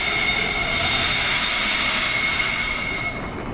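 Loud, close running noise from a EuroCity train arriving in Prague carries a persistent shrill squeal of the wheels over a heavy rolling roar, then eases slightly near the end, with no talking.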